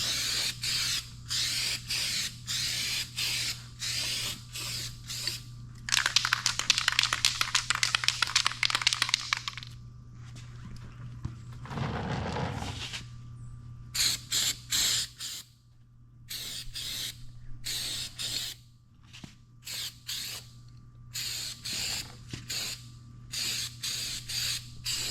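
Heavy second coat of spray paint hissing onto a taped-off overland kayak trailer in bursts, long continuous sprays broken by short puffs and a brief rattle near the middle.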